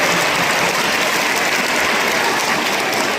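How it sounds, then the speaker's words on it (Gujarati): Groups of people at an anemia test and treatment camp clap loudly together, a dense continuous wash of applause that is close and evenly loud throughout. "બીજા 6 અને 7 વાળા લોકો જોરથી તાળી પાડે"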